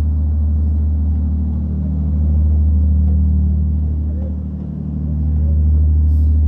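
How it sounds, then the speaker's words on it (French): A deep, steady motor drone rumbles close by, swelling and fading slightly as it passes, with no talking. "excusez-moi, j'ai le bateau qui m'a coupé, j'espère que vous le voyez"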